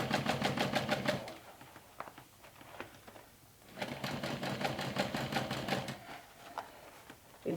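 A domestic sewing machine top stitches thick waterproof canvas in two fast bursts of rapid needle clatter, separated by a pause with scattered clicks and handling noise, fairly quiet and close with no talking.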